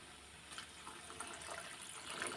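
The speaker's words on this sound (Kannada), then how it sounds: "ಒಂದು ಗ್ಲಾಸಷ್ಟು ನೀರು ಹಾಕೊಳ್ಳೋಣ" A glass of water pours steadily into an egg masala gravy for a couple of seconds, a soft continuous splashing and trickling, fairly quiet and close.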